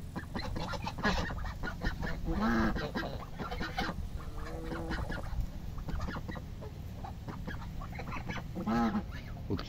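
A flock of ducks gathers in a yard among hens, giving repeated honking quacks over a constant background of clucking and scratching, close by and moderately loud.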